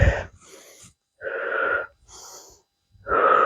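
During a Pilates workout, a person takes deliberate breaths close by: three loud, forceful exhalations alternate with softer, airy inhales in an even rhythm.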